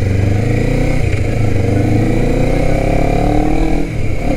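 A brand-new Honda CBR250RR sport motorcycle with stock exhaust revs loudly and close by, a throaty, uneven burble with pitch swells and a brief dip near the end.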